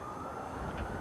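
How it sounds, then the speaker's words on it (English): An emergency vehicle siren drifts past a high school baseball game between Central and Londonderry, a steady wailing tone over broad outdoor noise for a moment. "Here's our third siren of the day."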